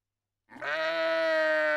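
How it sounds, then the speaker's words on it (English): A single drawn-out sheep bleat, loud and close, sustained for over a second after a brief silence. "Is it a sheep, do you think?"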